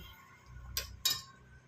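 A ladle clinking twice against a pan while stirring fish lemon curry, two quick metallic taps close by over a faint background hum.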